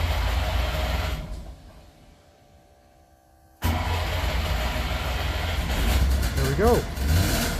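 A two-stroke car engine on choke and low on fuel cranks and then fires up into a loud, rough idle, with a brief quieter gap in between and someone speaking briefly near the end.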